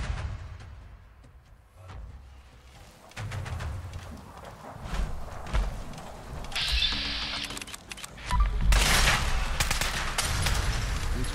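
Bursts of gunfire in Fallout 4 exploration, scattered shots and rapid volleys rising in density and loudness toward the end, with mechanical clicks between.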